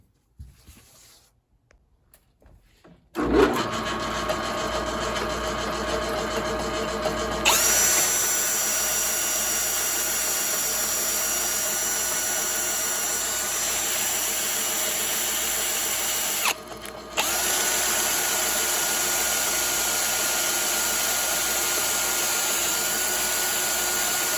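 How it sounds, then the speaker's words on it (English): Lathe spinning up to clean a rusty Bobcat 743 poppet valve part: after a quiet start, a loud, steady motorized whine and whir runs continuously, with a brief dip partway through, close and without speech. "we're gonna put this in the lathe and see what we can do"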